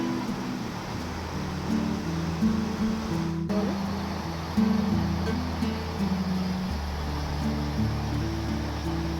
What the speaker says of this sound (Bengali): নদীর যে জলটা বয়ে যাচ্ছে সেই জলের আওয়াজটা পাচ্ছি